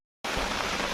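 Steady rain pours down outdoors after a silent start, a dense, even hiss of drops that begins abruptly and holds constant, with no voices.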